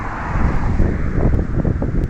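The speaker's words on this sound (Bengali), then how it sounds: "বাতাসে বাস ছাড়ে যেমন একটা শব্দ হয় না ঠিক ওরকম একটা শব্দ হচ্ছে" A cool wind blows outdoors in Canada, producing a loud continuous rushing roar across the microphone with no pauses.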